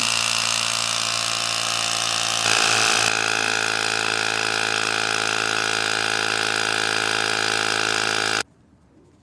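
A steady, loud mechanical drone of an air pump inflating a Lambretta scooter's tyre inner tube to 28 psi, running continuously with a slight shift partway through before cutting off abruptly near the end.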